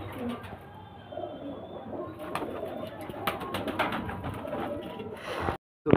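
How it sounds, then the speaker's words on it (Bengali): A male and female pigeon pair, imported from Pakistan, coo close by in soft repeated throaty calls over faint background noise, ending abruptly. "এটা নর পায়রা, আর এটা ওর মাদা পায়রা।"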